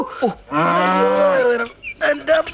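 A cow bellows in one long, loud, sustained moo that rises and falls, then gives two shorter calls. A brief sound comes just before the moo.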